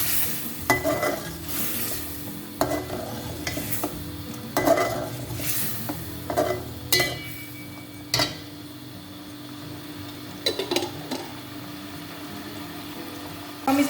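Garlic ginger paste sizzles in hot oil for a mutton korma while a utensil stirs it, with repeated sharp scrapes and clinks against the pot over a steady close frying hiss. No talking.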